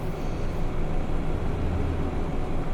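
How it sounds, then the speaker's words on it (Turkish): A Neoplan Starliner bus in Euro Truck Simulator 2, driving through heavy snow and storm with its retarder engaged, gives a steady low rumbling drone that holds evenly throughout with no voices. "Retarderi bir kademe açıyorum."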